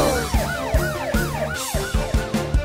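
Emergency vehicle sirens in a Hindi children's rescue-team song wail up and down in a fast, repeating cycle, loud and close over a bouncy musical beat.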